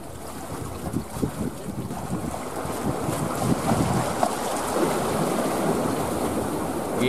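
A Vung Tau fishing boat motors in to anchor off Phu Quy island, its engine a steady low rumble under heavy wind buffeting and sea noise, with no talk.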